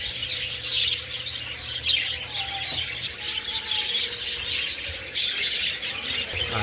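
Small parakeets chirp and tweet continuously in breeder cages, a busy overlapping chatter of many birds close by with steady background hiss and no talk.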